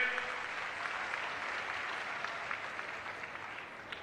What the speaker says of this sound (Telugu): బాగు చేశామంటే గట్టిగా చప్పట్లు కూడా చెప్పండి, బాగుపడ్డాయని